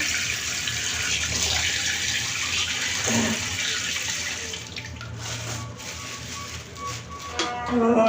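Tap water runs and splashes in a sink while bata fish is soaked before frying, a steady close wash that thins toward the end, with soft talk faintly beneath.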